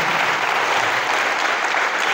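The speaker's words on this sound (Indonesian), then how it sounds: "Tepuk tangan untuk kita semuanya hari ini." Dense, loud applause from a seminar audience at a leadership event, steady and sustained throughout with no voices on top.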